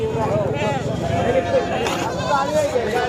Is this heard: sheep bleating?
yes